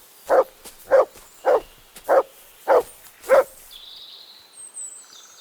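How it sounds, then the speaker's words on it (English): A dog in Kingdom Come Deliverance II gives six evenly spaced, fairly close barks about half a second apart. Faint high chirps and ambient game sounds follow. "Good dog, Mutt. Show me"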